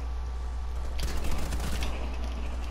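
A burst of rapid gunfire in Rainbow Six Siege rattles for about a second over a steady low hum, then fades back into the background.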